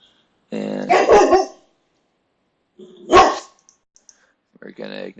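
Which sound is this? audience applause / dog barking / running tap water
dog barking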